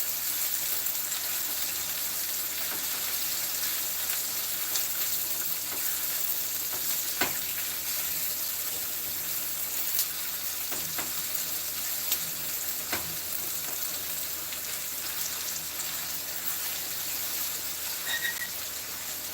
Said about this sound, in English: So I'm just gonna saute this for a few minutes.